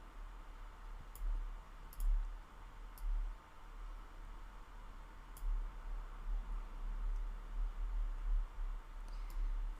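Sharp computer mouse clicks, a handful spread irregularly over a soft steady hum, close and quiet while dragging items in a website editor, with no voices.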